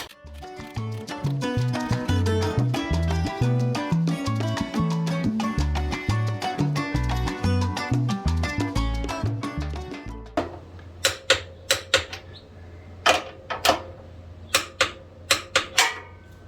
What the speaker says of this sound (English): now with your torque wrench set to 50 foot-pounds, let's just tighten these bad boys up